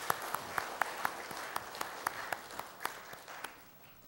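A church congregation at a Korean Presbyterian church in New York claps in sparse, evenly spaced beats, a few distinct hand claps standing out over a soft background and fading toward the end.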